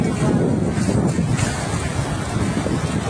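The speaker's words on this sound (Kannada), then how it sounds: "ನೀರಿನ ರಭಸ ಜಾಸ್ತಿ ಆಯಿತು. ತುಂಬ ಇದು ಬರ್ತಾ ಇದೆ, ವೇವ್ಸ್ ಬರ್ತಾ ಇದೆ." Ocean waves wash onto a quiet beach in a steady, loud broadband roar of surf, with wind buffeting the microphone throughout.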